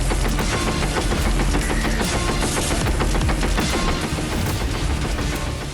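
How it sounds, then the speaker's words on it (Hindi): Ammunition cooking off inside a burning military vehicle after a drone strike, a dense, continuous crackle of rapid bangs and pops that stays loud and steady throughout, with no voices. "आग लगने के बाद वाहन में जो खराबी आई, उसकी वजह से लगातार फायरिंग होने लगी।"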